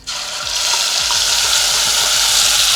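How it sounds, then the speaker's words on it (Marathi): Ground misal masala paste hits hot oil with asafoetida for a Maharashtrian tempering, bursting into a loud, continuous sizzle that starts abruptly and holds steady, crackling close up with no speech. "आता आपण जे वाटण करून घेतलं आहे मसाला तो टाकणार आहे"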